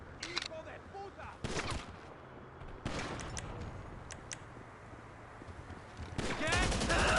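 Gunfire in GTA Online, with sharp bursts of shots near the start, in the middle and at the end, separated by quieter stretches, while voices shout in Spanish and English.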